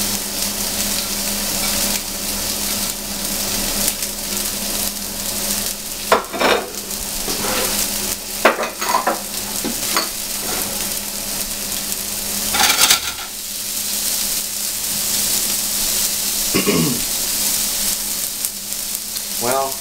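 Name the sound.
green beans frying with onions and garlic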